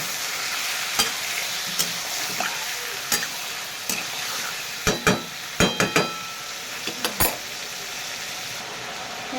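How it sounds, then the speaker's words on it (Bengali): Pieces of chicken fry with onions in hot oil and sizzle steadily at close range. A series of sharp scrapes and clinks from stirring the pan sound repeatedly over the frying hiss, and no one speaks. "পেঁয়াজের সাথে আমি মাংসটা ভাজা ভাজা করে নেব"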